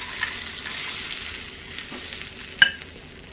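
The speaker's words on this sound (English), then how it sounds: "I'm just going to put the pumpkin seeds in the griddle." Damp pumpkin seeds sizzle faintly on a hot Dash Mini Griddle, a soft continuous hiss broken by a couple of sharp clicks near the end.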